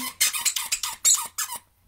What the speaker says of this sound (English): And now he he's gonna squeak it.